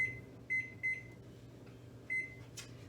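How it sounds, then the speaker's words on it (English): Short electronic beeps from an oven or kitchen timer being set for baking granola, several brief tones in an irregular pattern over a low steady hum, heard close with no talking. "And I'm setting my timer for 15 minutes."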